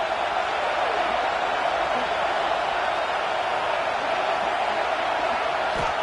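A stadium crowd in a football video game roars continuously at a steady, dense level across the whole stretch, with commentary voices running over it.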